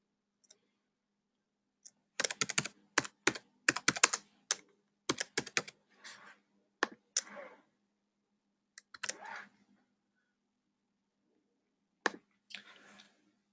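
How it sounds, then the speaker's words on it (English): A name is typed on a computer keyboard: quiet, close key clicks come in quick bursts with short pauses between, and no one speaks. "And we can type in an individual's name."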